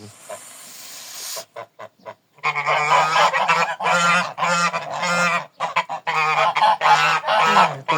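Loud geese honk repeatedly in close, overlapping bursts after a brief stretch of quieter background noise.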